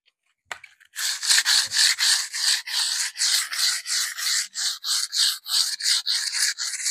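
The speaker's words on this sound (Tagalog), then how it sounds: "kailangan muna nating lihain kasi may kumapit na buha-buha ngayon" Sandpaper rubs back and forth across a metal gate in quick, steady strokes, a loud, close rasping rhythm that runs without pause.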